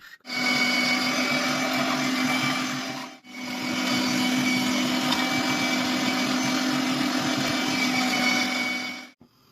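A blender grinding nuts runs loud and steady with a harsh whirr, stops briefly after about three seconds, then starts again and runs until near the end.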